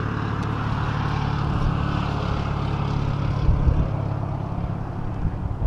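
A Slow Ultra Stick RC airplane's propeller engine drones steadily during takeoff in gusty desert wind, a loud continuous buzz with wind rumble, no voices.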